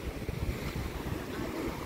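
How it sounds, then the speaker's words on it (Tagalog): Sea waves roll onto a windy shore, a continuous rough surge with wind buffeting the microphone and no talking. "Maalo, no? So sisilip tayo sa dagat."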